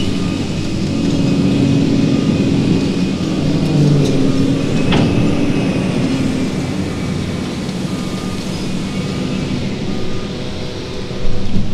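A subway train at a Montréal metro station produces a loud, steady rumble with a brief metallic squeal of wheels, heard up close and continuously with no talking.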